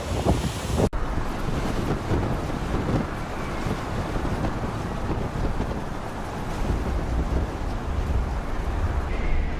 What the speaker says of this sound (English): the island is being shaken by a strong tropical cyclone